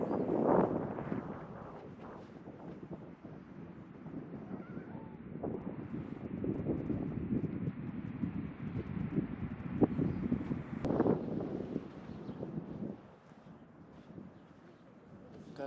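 Gusty wind buffets a campsite in Baja California, with low rumbling bursts that rise and fall over several seconds and a calmer stretch near the end.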